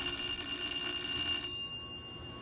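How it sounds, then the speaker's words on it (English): A bell rings on a bridge as it gets ready to close, a bright sustained metallic ringing that holds steady, then stops abruptly partway through and leaves a fading tone behind. "so the bell rang because it's ready to go"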